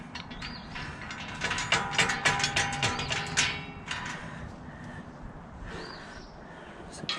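Ratchet wrench driving bolts into the corners of a Vevor rolling welding table, a quick run of sharp metallic clicks in bursts, close and clear, with a few lighter taps afterward.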